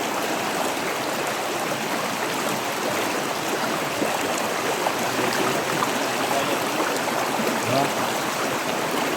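Water rushing steadily along a stream in the Philippine countryside, a continuous broadband flow with no pauses, fairly loud and close, with no talk over it.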